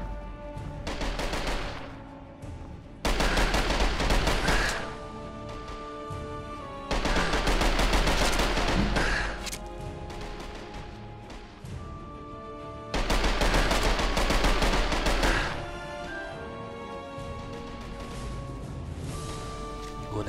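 Assault rifle fire in a modded Skyrim game comes in several loud bursts of rapid automatic shots, each lasting a few seconds, separated by quieter gaps filled with game ambience and echoing after-sounds.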